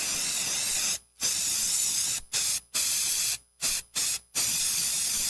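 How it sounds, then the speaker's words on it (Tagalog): Baygon insect spray hisses from an aerosol can in steady loud bursts, broken by several short pauses as the nozzle is released and pressed again, close and alone. "Humana ko i-spray direkta sa lamok, langaw ug ukok."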